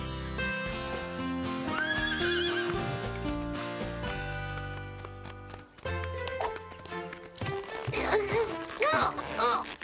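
Horses whinny loudly over rhythmic galloping hoofbeats, mixed with a busy musical score and sound effects.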